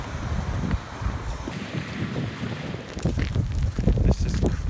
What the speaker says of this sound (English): It's like sleet everywhere. Oh my god, it's like rocks falling from the sky.